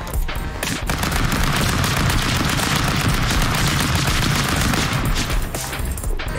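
Rapid, dense bursts of gunfire and explosions from the stick-figure brawler game Stick Fight, loud and continuous for several seconds with little pause.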